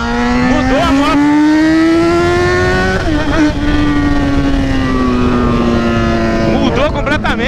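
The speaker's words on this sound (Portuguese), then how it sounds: "Eu desafio meu amigo Renato pra uma arrancada!" A Yamaha XJ6 motorcycle launches hard in a drag run. The loud engine note climbs steadily in pitch, with gear changes near three and seven seconds, and the engine dominates throughout.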